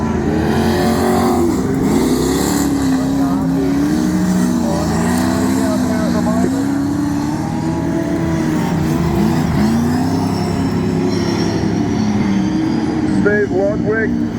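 Race cars roar around Wahgunyah Speedway during an AMCA Nationals Victorian title meeting, engines revving and rising and falling in pitch as cars pass, loud and continuous under a commentator's voice throughout.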